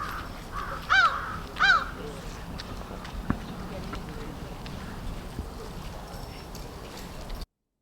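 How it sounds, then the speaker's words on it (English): Two harsh caws from an American crow calling in a tree, close together near the start, over faint outdoor background noise. "you can hear what I think is really a much more familiar sound of the American crow"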